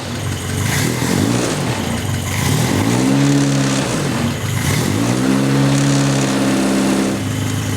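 A Formula Ford Royale RP30 race car engine with a carburettor catches after a few blips and settles into a steady, smooth idle around 800 RPM, loud and close, with rising and falling throttle swells.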